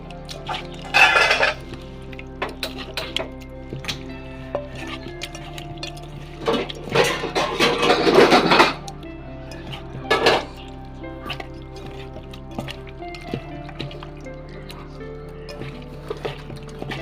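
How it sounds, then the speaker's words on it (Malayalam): Shawarma filling being mixed by hand in a bowl, giving soft squelching and occasional clinks of the dish in a few short bursts, with quiet gaps between and no talk. "നമുക്കിത് ഇനി കൈയേറ്റി മിക്സ് ആക്കി കൊടുക്കാം നല്ല ശരിക്കും നമുക്കിത് മിക്സ് ആക്കി കൊടുക്കണം"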